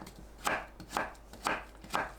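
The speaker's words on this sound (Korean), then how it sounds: "홍고추를 작게 썰어주세요" Four evenly spaced knife chops through red chili peppers on a cutting board, each a crisp, close thump about half a second apart, with nothing else heard.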